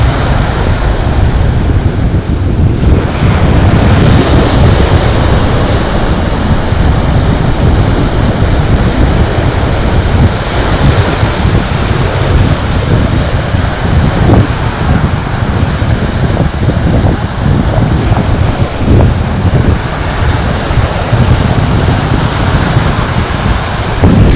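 Strong wind roars across a shore by a sand channel in the reef during jig fishing, a loud, steady broadband rush with gusty surges and some surf mixed in, filling the whole stretch with no voices.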